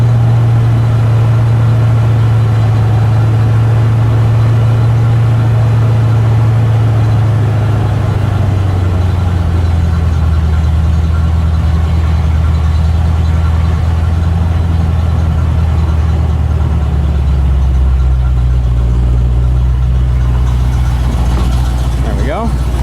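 A Ford F150 truck engine idling with a loud, steady low rumble that shifts pitch slightly partway through, close by.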